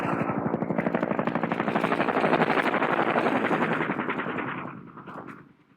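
Cobra attack helicopters circle above a landing zone, their rotor chop loud and rapid with a dense, pulsing throb that continues steadily before fading somewhat near the end.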